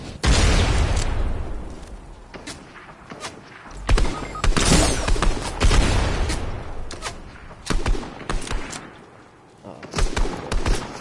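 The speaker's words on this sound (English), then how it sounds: "I got sniped at from left side" Sniper fire and other gunshots in Fortnite, heavy booming reports and thuds arriving at irregular intervals, loud and up front, mixed with game noise and a player talking.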